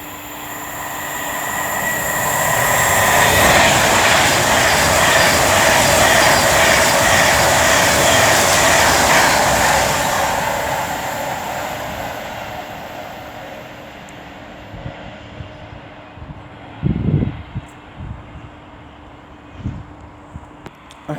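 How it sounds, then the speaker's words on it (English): A passenger train on the West Coast Main Line at Rugeley Trent Valley, running from Manchester Piccadilly to London Euston, rushes past loud and close with a broad roar that peaks early, then fades, leaving a few clanks and thumps. "This is 1 Alpha 27 from Manchester Piccadilly to London Euston."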